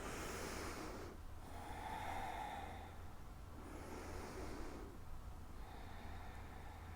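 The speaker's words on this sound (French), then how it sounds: "nous allons faire quelques respirations profondes" Slow, deep breaths during a French sophrology relaxation session, several long airy inhales and exhales in a steady, unhurried rhythm, soft and close against a faint low hum, with no talking.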